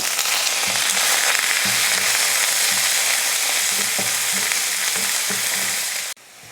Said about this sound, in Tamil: எண்ணெய் காஞ்சதுமே கொஞ்சம் கடுகு பொரிஞ்சதுமே வெங்காயம், 3 பச்சை மிளகாய்